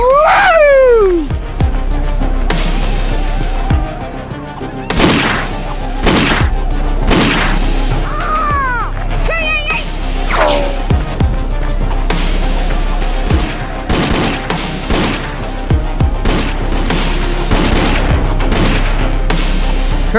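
Gunfire in an audio drama shootout: repeated sharp shots and bursts in irregular volleys, loud and close, mixed with shouting voices and screams.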